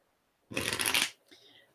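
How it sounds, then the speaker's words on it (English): A deck of cards is riffle-shuffled once in a quick, close burst of crisp fluttering, followed by a short soft rustle as the cards settle. "One more shuffle."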